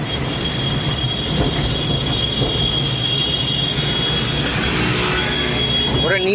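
A train passes close by with a loud, continuous rumble and rattle of wagons, wheels squealing toward the end.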